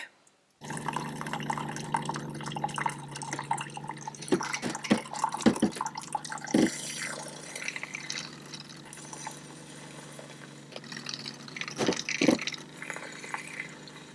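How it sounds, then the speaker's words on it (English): A Keurig coffee maker brews into a cup with a steady stream of liquid pouring and dripping, broken by a few soft clicks and knocks, close and fairly quiet, with no talking. "we will pop that through the Keurig"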